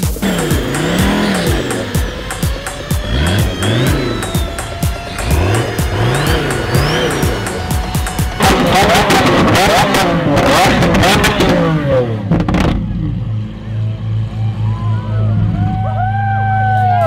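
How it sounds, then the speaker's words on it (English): Lamborghini Aventadors with custom exhaust rev hard at a Cars & Coffee meet, loud repeated rising and falling engine blips with crackles and pops, then tires squeal near the end, with crowd voices underneath. "These cars are freaking amazing with custom exhaust."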